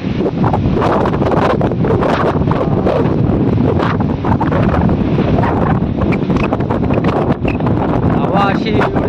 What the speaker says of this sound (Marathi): हवा अशी एवढी हवा चालते ना